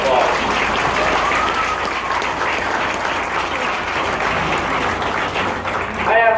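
Steady, full audience applause at a county swine showmanship event, loud and continuous for several seconds with crowd noise mixed in and a voice rising near the end.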